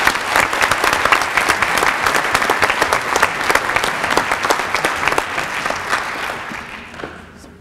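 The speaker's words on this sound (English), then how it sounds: "Let's give him a round of applause" A crowd gives a round of applause for a future Marine at a military commitment ceremony, with brisk, even clapping that is loud and sustained for several seconds before tapering off at the end.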